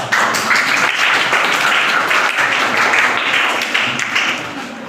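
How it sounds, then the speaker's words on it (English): Students in a classroom applaud, a dense steady wash of clapping from many hands, close and loud for several seconds before tapering slightly. "please give a huge round of applause for one and only my favorite, Arjun Singh."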